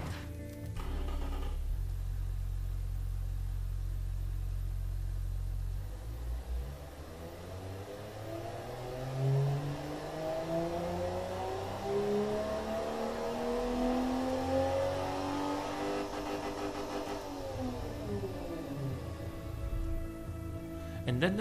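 An in-game car engine fitted with long tubular headers, two straight-flow mufflers and a high-flow cat idles, then revs up through rising, sweeping tones in the Automation car-design game, loud and steady throughout.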